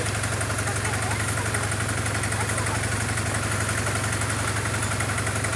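A Honda CBR 450 SR motorcycle engine idling steadily at about 1500 rpm, a loud close continuous thrum with an even mechanical pulse that holds through the whole stretch without revving.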